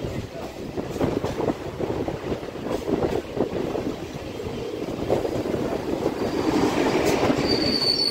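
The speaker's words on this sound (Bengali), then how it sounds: "কাকুরগাছি রেল ব্রিজের ওপর দিয়ে আমরা যাচ্ছি" Heard from on board, a Dankuni–Sealdah local train rolls over the Kakurgachi rail bridge above Maniktala Road. Wheels clatter in a rapid rhythm with loud, sustained metallic squeals, close and continuous throughout.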